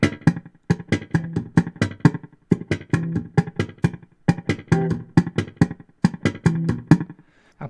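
Punchy slap bass plays a repeating syncopated pattern, thumped low notes mixed with sharp popped snaps, steady groove with brief rests between phrases.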